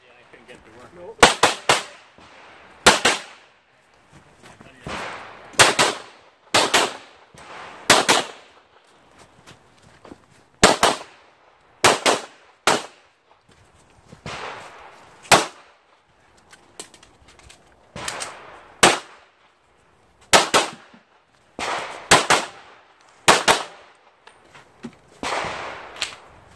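Sharp gunshots ring out at a three-gun shooting stage, fired in quick pairs and bursts across the whole stretch, loud and close, with short pauses between strings and faint voices in between.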